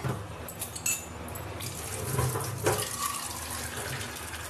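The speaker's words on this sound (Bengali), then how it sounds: "সেন আমি জল নিয়ে নেবো কল থেকে" Water runs from a kitchen tap while a thin fish curry cooks, a steady broadband rush lasting a few seconds at close range, with no talking over it.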